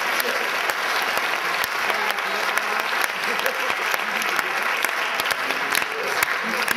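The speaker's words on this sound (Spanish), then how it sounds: "Podéis hacer aplausos si queréis." Audience applause fills a theatre during a MUS-E stage show at Teatro Buero Vallejo in Alcorcón: a dense, fairly loud wash of many hands clapping that holds steady from start to finish.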